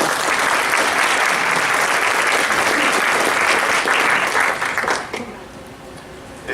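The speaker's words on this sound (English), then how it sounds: "please give a round of applause for Pastor George Nicholas" A conference audience gives a loud, sustained round of applause welcoming a pastor to the stage, dense clapping that fades out over the last second or two.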